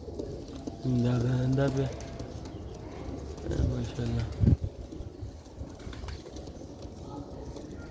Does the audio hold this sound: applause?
no